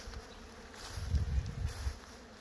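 A dense, steady buzzing of many honey bees close by, a loud continuous drone swelling slightly in the middle.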